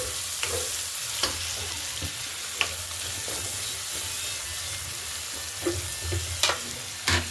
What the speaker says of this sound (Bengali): গোটা জিরে দেওয়ার পর কুচনো পেঁয়াজ দিয়ে ভালো করে ভেজে নেব